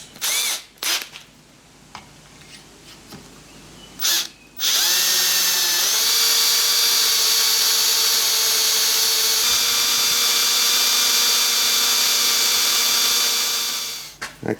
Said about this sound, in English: Alright, so we're going to follow up with the 5mm drill bit.